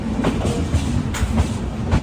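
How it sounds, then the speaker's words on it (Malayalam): The Grand Trunk Express from Chennai rolls into New Delhi railway station, its wheels clacking in a steady rhythm over a moderate rumble, close and alone. "2186 കിലോമീറ്റർ യാത്ര ചെയ്ത് ട്രെയിൻ ഇതാ നൈദില്ലി റെയിൽവേ സ്റ്റേഷനിലേക്ക് എത്തിക്കൊണ്ടിരിക്കുകയാണ്"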